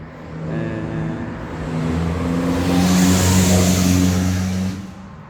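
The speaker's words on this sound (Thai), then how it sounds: "เสียงรถก็ดังพอสมควรพี่น้อง" A car engine swells as it passes by outdoors on a road, a steady mid-pitched drone rising to a peak and then fading, fairly loud with no talk.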